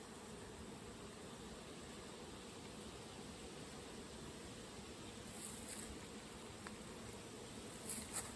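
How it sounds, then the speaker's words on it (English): Honey bees buzz around a hive frame during an October feeding check, a steady dense hum of many bees close by, continuous and even with no talking. "There's a lot of bees on this frame on one side."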